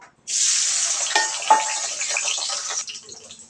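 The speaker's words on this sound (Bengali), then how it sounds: "এবার আমি আলুগুলো একটু হলুদ এবং লবণ দিয়ে ভেজে নেব।" Potatoes with turmeric and salt dropped into hot oil, a sudden loud close hiss that holds steady for a few seconds, with faint stirring clinks, then eases off.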